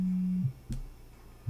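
A mobile phone rings during a poker session, a steady low electronic tone that holds, breaks off, then returns briefly, with no talk over it.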